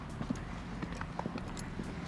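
Pony hooves clip-clop at a calm walk up a bank during a riding lesson, several distinct close thuds spaced unevenly over a steady outdoor background.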